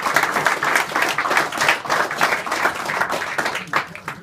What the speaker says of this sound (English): Can I have a round of applause for them, please?